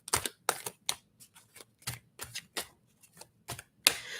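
Tarot cards are shuffled in the hands, making a quick series of close, sharp riffling and snapping bursts with short gaps between them.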